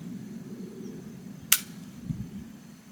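A single sharp shot from an AEA Harpoon .50 caliber air rifle at a range, a brief crisp crack standing out over steady low background rumble, followed by a faint thud.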